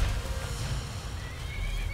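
Horse in the video game Skyrim giving a loud, close whinny over clip-clop hoofbeats, lasting about two seconds.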